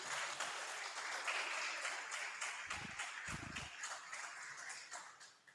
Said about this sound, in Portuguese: Os irmãos podem aplaudir ao nosso Deus?